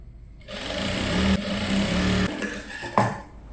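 An electric sewing machine runs in one continuous burst of fast stitching, close and steady, joining a short gown's bodice to its bottom. It stops briefly, then ends with a clack and quiet.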